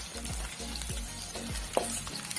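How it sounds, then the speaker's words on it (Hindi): Jackfruit pieces frying in hot oil in a kadai, a soft steady sizzle with rhythmic low scraping strokes of stirring about every half second and one sharp tap, no voices. "अब जो हमने कटहल काट कर रखा है वो तेल में डाल देंगे और इसको फ्राई करेंगे।"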